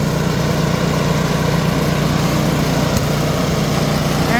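Cheap secondhand snowblower engine running with its auger turning on its own, a steady, loud, close mechanical drone without pauses.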